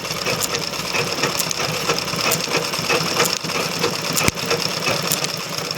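A sewing machine stitches a black fall onto a saree, running steadily and close by with a continuous mechanical whir and rapid needle clatter for several seconds.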